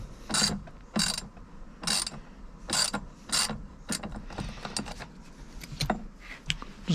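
A ratchet wrench snugging down a fastener during an install, a series of sharp clicking ratchet bursts in an uneven rhythm, close and clear with no talk.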